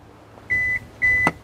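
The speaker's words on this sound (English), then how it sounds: "Hear it beep twice." Two short electronic beeps from a 2021 Kia Sportage power liftgate as its open height is saved, clear and close, followed by a faint click, in a quiet setting.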